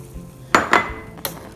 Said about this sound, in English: Pour the boba into the boiling water.